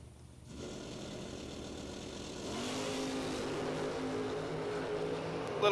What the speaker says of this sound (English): Going to get a good look at the roof of the wheelie wagon as it goes by the tree.